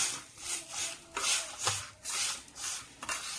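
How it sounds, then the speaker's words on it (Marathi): Chana chatpati being stirred and tossed in a bowl after a hot oil tempering, giving rhythmic scraping and rubbing strokes roughly every half second, close and moderately quiet, with no speech. "आता मिक्स करून घेऊ."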